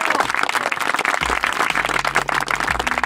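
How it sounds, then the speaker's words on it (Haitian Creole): A studio audience at a radio dance show applauds, a dense, lively burst of clapping hands close by lasting a few seconds, with a faint low hum underneath. "On bat un petit bravo pour yo."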